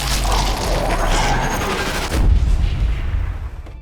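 A booming sniper rifle shot in the World War II shooter game Sniper Elite 3, a heavy close blast with a rolling echo that trails off over several seconds.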